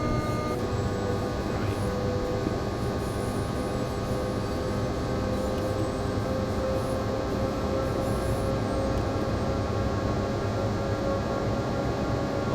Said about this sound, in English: We're about to overtake that hopper train.